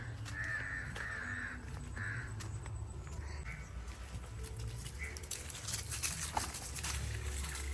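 Several crows caw repeatedly outdoors, harsh calls rising clearly above a steady background rumble with faint movement noises, and nobody speaks.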